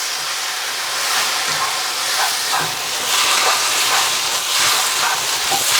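Beef ho fun rice noodles stir-frying in a hot wok after a dash of oyster sauce goes in, a steady loud sizzling hiss with small crackles and scraping tosses throughout.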